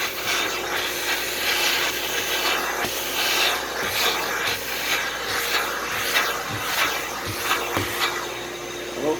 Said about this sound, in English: I'm going to vacuum it a little bit and then have a look at them.